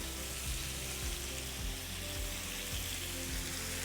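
Tomatoes sizzle in a pan over high heat, cooking for tomato chutney with salt and curry leaves, giving a steady close crackling hiss with soft low knocks at regular intervals, and no talking.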